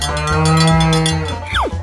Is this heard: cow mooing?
yes